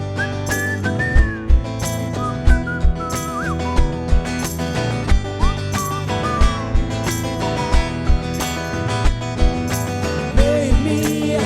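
Melodic whistling rides over a band playing a song at a live summer concert, with the whistled phrases weaving between steady drum hits.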